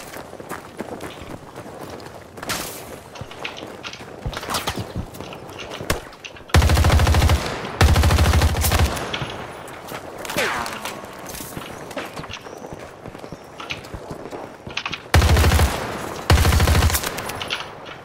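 Automatic gunfire in the video game Battlefield 2042 battle royale mode, several rapid bursts of loud shots with scattered single reports and footsteps between them, interspersed with quieter game ambience.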